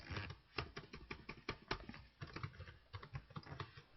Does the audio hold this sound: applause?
no